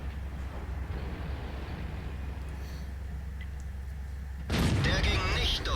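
A Tiger II (Königstiger) tier 8 heavy tank fires its cannon in a video game: a low engine rumble runs steadily, then one loud, close blast hits and rings on to the end, with a voice talking.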